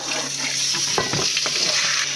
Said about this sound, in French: Dans la même casserole, un peu d'ail frit. On rajoute le poulet.